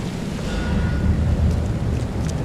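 Stormy weather in the video game The Sinking City, a steady broadband roar of heavy rain and wind with low rumbling like distant thunder, continuous and fairly loud throughout.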